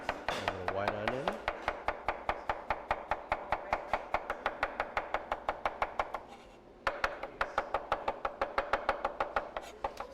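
A knife chops white onion on a board in a quick, steady run of close, crisp strikes, pausing briefly midway before the regular rhythm resumes, with a short voice at the start.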